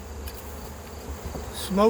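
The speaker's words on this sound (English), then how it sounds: "a bunch of bees on in the feeder over there" Honeybees buzzing around a hive feeder in a backyard apiary, a soft, steady close-up drone with brief louder passes as individual bees fly near.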